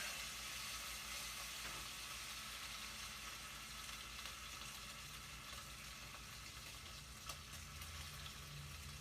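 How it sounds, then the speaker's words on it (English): Bacon frying in a pan gives off a steady, quiet sizzle with faint crackles and small pops of grease, continuous and fairly distant, with no voices. "Watch that bacon. It likes to pop grease at you."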